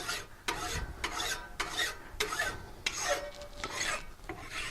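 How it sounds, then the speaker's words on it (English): Farrier's rasp scraped along a sheet steel edge in a series of rough, evenly spaced strokes, each a harsh gritty rasp, close and fairly quiet with no voices. "This cleans up the edge and makes it look really nice because the farrier's rasp takes off a lot of steel."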